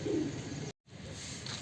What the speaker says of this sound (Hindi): दोस्तों छत पे अभी एक दोबाज कबूतर आया